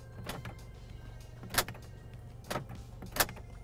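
A 2020 Toyota Camry's doors thud shut in three distinct knocks, one loud slam followed by two quieter ones, over a low steady hum inside the car.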